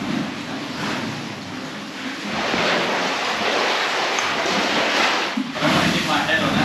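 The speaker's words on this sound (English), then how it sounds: "There's a bit of swell today, so you can hear it surging in." Ocean swell surges into a sea cave on a remote island, a steady rushing, washing roar that swells and recedes, with wind noise on the microphone.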